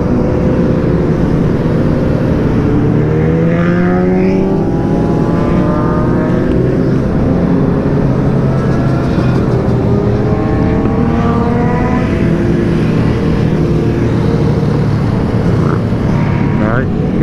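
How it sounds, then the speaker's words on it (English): Motorcycle engines rev and whine in rising and falling pitches during a wheelie beside a truck on a group ride, with a loud, steady road and wind roar and voices underneath. "Now he's wheeling beside a truck."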